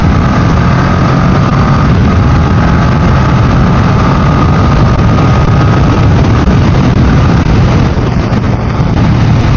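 A Honda motorcycle engine, either an NX500 or a Rebel 500, drones steadily while accelerating in fourth gear at around 80 on the road, heavily buried under loud, constant wind rush across the microphone.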